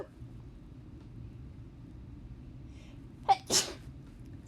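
A person sneezes twice in quick succession during an online physics lecture, two sharp bursts near the end standing out against a quiet room hum.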